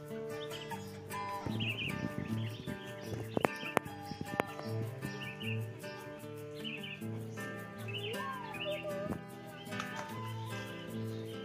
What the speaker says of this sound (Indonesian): Burungnya Ra.